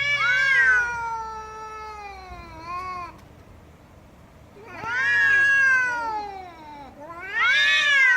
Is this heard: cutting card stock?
no